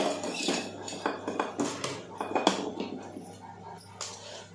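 Cooked tomato dal is tipped from a pot into a tempering pan, with metal utensils clinking and scraping in a run of close, uneven clatters over a low background hum.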